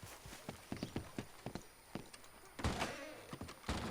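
Horse hooves clip-clop in Red Dead Redemption 2, a run of evenly spaced, fairly close hoofbeats with a few heavier thunks partway through, no talking.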